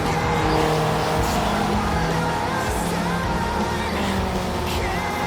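Cheap Volvo race car drifting on a track, its engine droning loudly and steadily while the tires squeal throughout a few seconds of continuous sliding.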